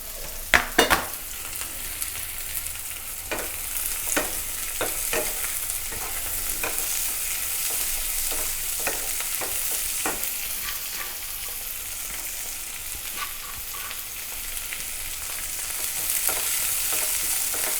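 Spring onion and cabbage stir-fried for noodles in a hot pan, giving a steady loud sizzle throughout with intermittent scraping and clinking of the spatula stirring, close up and with no talk.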